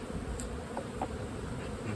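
Hungry honeybees buzz in an opened beehive while the colonies are being evened out in strength, a steady low drone filling the whole stretch with a few brief louder passes.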